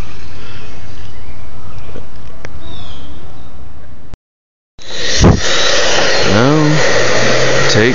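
Handheld heat gun warming carbon fiber vinyl film to work it into a groove: a steady, close blowing roar that briefly cuts out, then resumes louder, with faint talking underneath.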